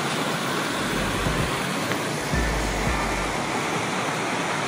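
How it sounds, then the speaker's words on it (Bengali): A river runs beside a hillside resort in Darjeeling, giving a loud, steady rush of flowing water that fills the whole stretch without pause, with no voices over it. "পাশেই একটা এই নদী বয়ে যাচ্ছে"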